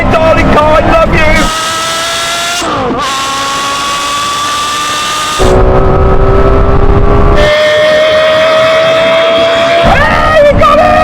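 Porsche Carrera GT and Lexus LFA engines screaming through a drag race, long climbing revs cut by sharp gear shifts and sudden switches between the two cars, loud throughout with voices talking over them.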